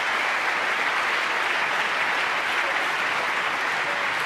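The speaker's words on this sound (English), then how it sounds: "Warmly appreciated by this capacity crowd." A capacity snooker crowd at the 2015 Welsh Open quarter-final applauds a century break by Mark Williams, giving steady, dense clapping that carries on throughout without a break.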